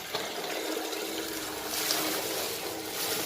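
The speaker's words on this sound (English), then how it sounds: "we let some liquid, say out of the shower, into this pump, and it will self-prime and fire up" A self-priming sullage pump draws shower water out of a sump, giving a steady broadband rushing, trickling wash of flowing water that holds at an even level throughout, with no voices.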